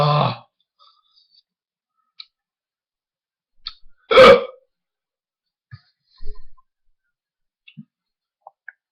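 A person's hiccups in a quiet room, two sharp isolated hiccup bursts several seconds apart, with small clicks and faint mouth noises scattered between them.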